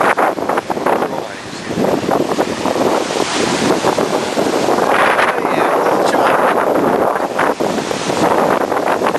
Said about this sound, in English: Winds were 29 knots. And gusting to 29, 25 gusting to 29.